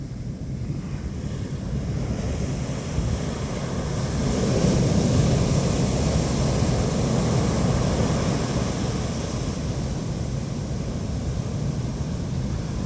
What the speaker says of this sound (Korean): 바람이 많이 불고 그러니까 파도가 많이 치잖아요.